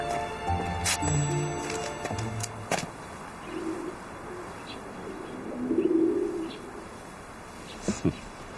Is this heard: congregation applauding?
no